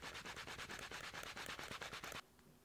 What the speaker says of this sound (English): we're just going to sand the edges of our case just to get them nice and smooth